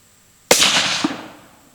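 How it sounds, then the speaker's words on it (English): A single sharp rifle shot from a .280 Ackley loaded with 58 grains of N555 behind a 145 grain Barnes LRX bullet, a sudden loud crack that decays into a fading outdoor echo over about a second. "last shot here, 58 grains"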